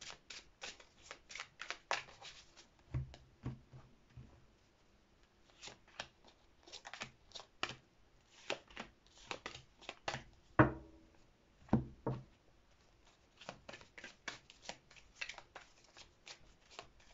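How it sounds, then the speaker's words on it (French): Tarot cards being shuffled by hand, in repeated crisp riffling bursts with short pauses between them, close and fairly quiet, no voices. "pendant que moi je mélange les cartes et que je fasse les deux tas"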